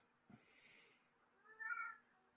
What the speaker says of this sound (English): Even the studio cat's made its way to Reno